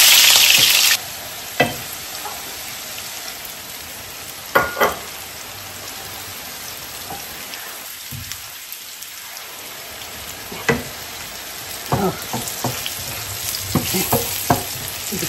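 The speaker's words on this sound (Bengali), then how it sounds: "গরম হয়ে গেছে, দিয়ে দিচ্ছি গোটা শুকনো মরিচ, কিছু গোটা জিরা, আর দিয়ে দিব একটু থেতো করে রাখা রসুন" Whole dried red chillies, cumin seeds and crushed garlic frying in hot oil for a tempering, a steady close sizzle with occasional sharp spits and stirring clatters.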